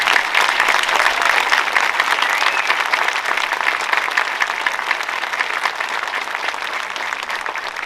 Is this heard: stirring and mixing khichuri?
no